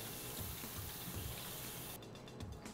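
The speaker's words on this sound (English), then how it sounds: "you're gonna wash your artichoke under cold water" Steady running cold tap water splashes continuously, with a slight change in the flow near the end as an artichoke is rinsed beneath it.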